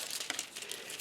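Foil sheet rustling and crinkling as it is handled for a foiling plate, a brief close burst of light crackling with no voice.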